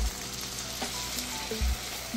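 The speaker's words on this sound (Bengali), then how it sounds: "সজনার সাথে আমি সাঁতলে নেব" Moringa drumsticks fry with tamarind paste in a pan, making a steady close sizzle. A few soft stirring knocks and scrapes come through the crackle.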